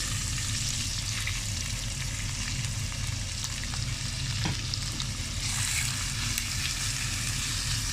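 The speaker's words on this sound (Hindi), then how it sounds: "इसमें एक मीडियम प्याज जो है वो मैं शामिल करूँगी।" A medium onion is added to hot oil in a pan while making butter chicken, giving a steady, loud sizzle of frying that continues without break and without voices.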